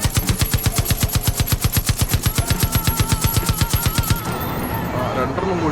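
Rapid automatic gunfire in the video game Far Cry 5 rattles off in a long, evenly spaced burst of loud shots for about four seconds, then stops, leaving quieter game ambience.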